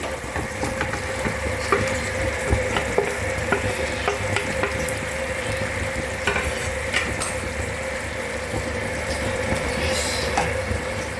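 Fried prawns are added to a sizzling, well-cooked curry masala and stirred. A loud, continuous close sizzle runs throughout, with scraping and clinks of a utensil against the pan and no talk.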